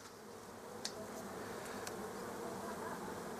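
A honey bee colony at an apiary gives off a steady, fairly faint buzz, an even drone with a couple of short sharp clicks early on.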